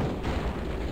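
Artillery fire in the Spellcross strategy game: a single short, dense boom with a rumbling low-end body, loud and close, lasting about a second with no voices.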